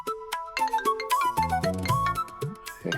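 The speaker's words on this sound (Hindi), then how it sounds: "हेमा भाभी, उठा लीजिए।" Phone ringtone playing a bright electronic melody of quick repeated chime-like tones, loud and close, with no voices over it for about three seconds.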